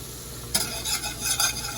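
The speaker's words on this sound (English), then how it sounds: "Now we're going to whisk it." A whisk stirs cornstarch into melted butter in a pan, giving soft, continuous scraping and swishing strokes with a faint sizzle underneath. The sound is close and moderately quiet, with no talking.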